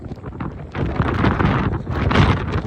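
Strong wind buffets the microphone on a cold climb up Mount Etna, with hailstones pelting down; loud gusty roaring that rises and falls, with no speech.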